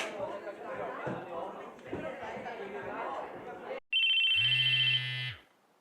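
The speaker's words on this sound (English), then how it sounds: "it was my phone going off, but even though I was sure I'd set to vibrate, the ringtone was going off too." Cell phone ringtone from the Chaos;Head Noah video game bursts in loudly and alone as a steady electronic tone lasting over a second, right after a stretch of busy background chatter and talk.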